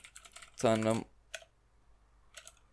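Someone types a coupon code on a computer keyboard, producing short bursts of close key clicks with gaps between them. A brief voiced sound interrupts near the start.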